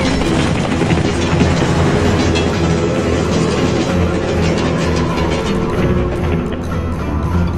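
A train runs on rails in the West War mobile game, a loud, steady rumbling roar with rhythmic clatter that carries on without a break and has no speech over it.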